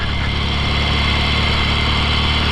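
A 1963 Royal Enfield Interceptor motorcycle engine runs steadily while riding, a loud, close, continuous mechanical drone with a low throbbing pulse and no talk.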